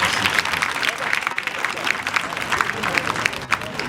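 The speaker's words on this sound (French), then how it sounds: "Je voudrais vous demander de l'applaudir très fort." An audience at a graduation ceremony for students of the IUSEBA institute applauds loudly, a continuous dense clapping from a sizable crowd with faint voices mixed in.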